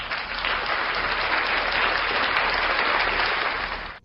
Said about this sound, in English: We're going to give her a round of applause for that one.